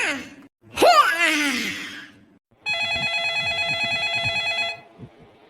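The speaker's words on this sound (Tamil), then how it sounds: "ஏன் செல்போன் தான் அடிக்குதா?" A mobile phone ringing in a Tamil cartoon scene, a steady electronic ringtone lasting about two seconds after a gasping, groaning voice, with a voice briefly heard underneath.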